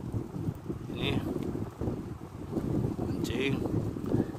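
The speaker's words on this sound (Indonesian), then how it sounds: "Awan pun sudah hitam, angin pun kuat, guys." Strong wind under a darkening sky blows steadily around an electricity pylon, a continuous rushing rumble with gusty swells, while someone talks over it.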